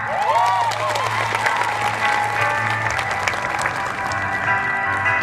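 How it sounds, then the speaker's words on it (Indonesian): Loud audience applause and cheering from a large crowd of university students at a motivational talk, sustained clapping with excited shouts and whistles, and a low hum running beneath it. "Oke, saya minta tepuk tangannya yang meriah."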